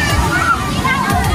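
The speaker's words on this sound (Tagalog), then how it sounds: "Ang lakas ng tubig." Strong water rushes and sloshes at Talao Talao Beach in Lucena, Quezon, a loud close wash of surf under the babble of people talking nearby.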